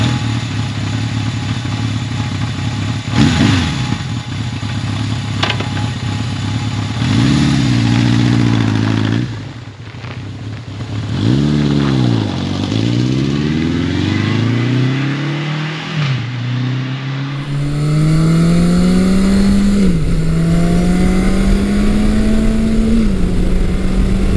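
A 1980 Yamaha XS1100 Special motorcycle engine revs loudly and steadily, climbing through the gears with repeated rising pitch sweeps and brief dips at each shift, heard up close from the rider's position with wind noise and no talk.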